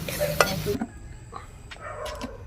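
A tempering for chennangi leaf chutney fries in oil, sizzling and crackling briefly with a few stirring scrapes of a spoon in the pan, then quieting to a softer simmering hiss.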